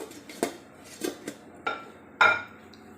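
A lid clatters onto a metal cooking pot of sinigang na pampano, several sharp clanks and clinks in a quick irregular series, close and fairly loud with no talking.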